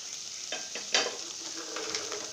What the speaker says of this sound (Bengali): মশলাগুলোর মধ্যে একটুখানি নেড়ে চেড়ে নিব